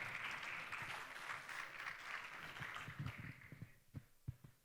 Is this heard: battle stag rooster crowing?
no